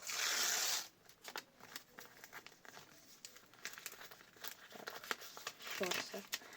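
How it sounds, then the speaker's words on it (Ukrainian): Crinkling, tearing packaging as a paper packet is torn open, loud at first, then scattered rustles and crackles follow. "Давайте відкриємо ось цей пакетик."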